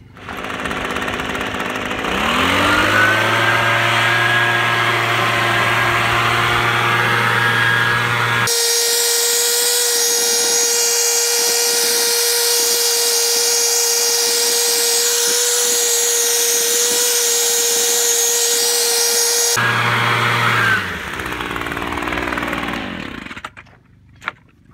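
A compressed air blast blows dirt off a pile of scrap lead bullets, a loud steady roaring hiss that holds for several seconds, backed by a droning motor before and after, with no voices.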